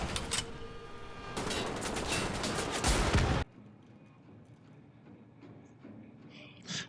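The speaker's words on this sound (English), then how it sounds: "these guys are going to come down here and just start shooting them with this pistol" Rapid pistol fire from the Kampfpistole in the shooter game Wolfenstein: The Old Blood, a dense, loud burst of gunshots for about three seconds that cuts off abruptly, leaving quiet game ambience.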